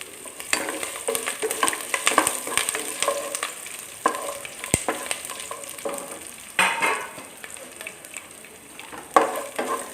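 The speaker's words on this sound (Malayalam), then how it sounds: "പച്ചമുളക് ഇട്ട് കൊടുക്കാം." Green chilies sizzle in a pan of chicken as a spoon stirs them, bursts of crackling frying mixed with frequent scraping strokes at close range, and no voices.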